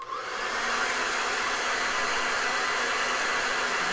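A hair dryer blows steadily on wet paint of an eagle picture, a close, constant rushing whoosh that starts abruptly and holds without a break.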